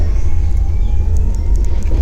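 A steady low rumble of a night passenger train bound for Bilaspur, heard from inside, with faint clicks above the continuous drone.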